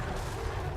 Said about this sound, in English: The cannons seem to be shooting right through the trees here.